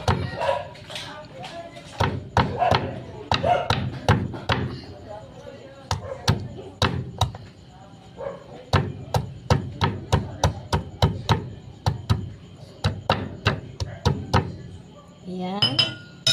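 Garlic being chopped with a knife on a cutting board, a run of sharp, rapid knocks in quick bursts with short pauses between them, close by, with a voice speaking at the start.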